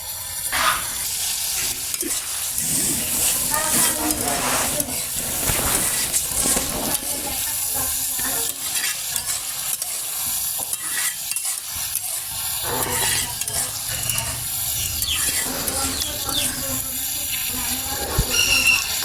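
Quail meat fries in a pan under a steady sizzle while a spoon stirs and scrapes it in frequent clattering strokes, close and busy, with no speech.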